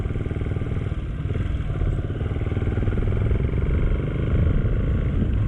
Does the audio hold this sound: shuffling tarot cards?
no